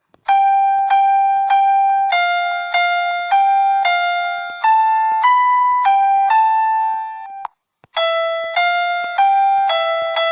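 Bright synthetic piano notes from a keyboard app, played one at a time in an even, stepwise run with short decays, a brief pause, then more notes, clean and close with no voices.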